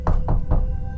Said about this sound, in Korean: 그때 아래층 현관에서 노크 소리가 들렸다.